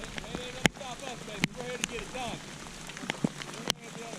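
Rain pattering on a surface outdoors while fishing, a soft continuous patter broken by sharp clicks and knocks, with a voice talking throughout.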